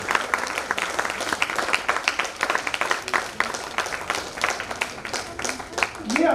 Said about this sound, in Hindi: बहुत तालियों की गड़गड़ाहट के साथ यहाँ से आइए।